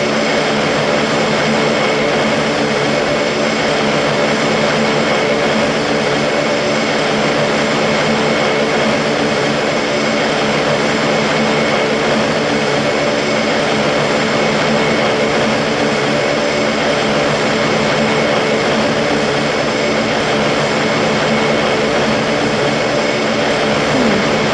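A turboprop airplane engine in a flight simulator game hums in a steady, unbroken drone for the whole stretch, loud and even, with a tonal whine over the rumble.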